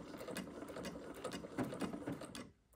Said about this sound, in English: let's keep sewing